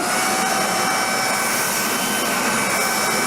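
A Nacecare RSV 150 electric backpack vacuum cleaner runs on its high setting, a loud, steady, close whining roar with no breaks and no voices.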